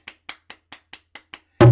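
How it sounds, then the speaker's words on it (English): Seven sharp, evenly spaced hand claps from children at a library storytelling event, crisp and close with short gaps between them, ending in a sudden loud burst of noise. "It's time to clap your hands"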